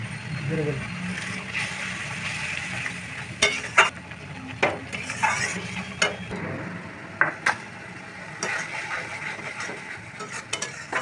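Spiced water with chili powder and turmeric hits masala in a hot pan while cooking sol fish dhoka, giving a steady broad sizzle with sharp clinks and scrapes of a spoon stirring at irregular intervals.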